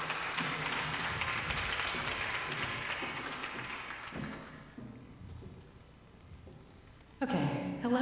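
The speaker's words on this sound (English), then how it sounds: "Let's give them a round of applause." Audience applause at an awards ceremony fills the first several seconds, then fades out into a quiet room before a voice begins speaking.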